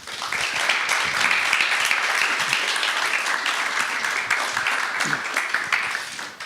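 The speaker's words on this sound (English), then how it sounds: "After a firm round of applause for Emillie, Tomislav and Florian." Firm, steady round of audience applause for three panelists at a panel discussion event on disinformation, dense clapping sustained throughout and easing slightly at the end.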